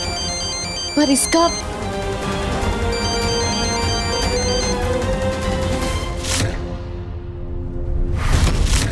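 A phone ringtone plays a repeating electronic melody through most of the passage, with speech over it and a whoosh near the end, typical of a Hindi television drama scene.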